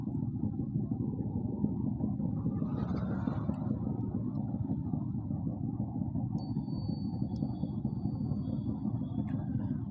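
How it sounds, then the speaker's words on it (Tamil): Yamaha RX two-stroke motorcycle engine running steadily throughout during a group startup ride in Trichy, a continuous loud low rumble with other bikes around and no clear voices. "போட்டு விட்டு வரட்டுன்னு ஆர்எக்ஸ் சவுண்டு பார்த்தீங்களா?"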